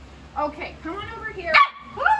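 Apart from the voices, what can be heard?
dog barking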